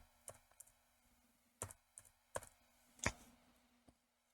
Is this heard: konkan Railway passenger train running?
no